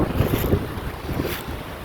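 Wind gusts outdoors buffet the microphone with a loud, rumbling roar that rises and falls in uneven surges throughout, with no speech.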